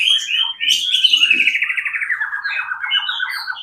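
A starling (jalak) sings a continuous run of bright, rapid chirps and warbling trills, close and clear for about four seconds with no other sounds.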